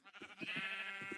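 A single Minecraft sheep gives a short wavering bleat, close and clear, lasting about a second with no talking over it.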